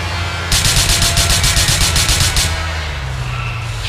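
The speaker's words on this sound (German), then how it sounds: "Schöner Schuss." Rapid automatic gunfire from the video game GTA IV, a loud burst of evenly spaced shots lasting about two seconds, then fading into a low background rumble.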